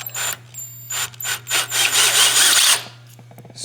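A power drill bores out and enlarges a hole in a metal clamp during a Honda H22 engine build, with several short close bursts and then a longer sustained grinding run that cuts off.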